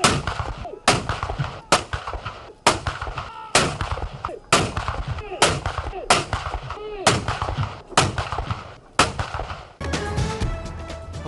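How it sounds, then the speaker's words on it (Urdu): Pakistan Army artillery cannons fire a ceremonial salute, about ten heavy booming shots at a steady pace of roughly one per second, loud and echoing, with crowd noise underneath. "مبارک دن کا آغاز توپوں کی سلامی سے"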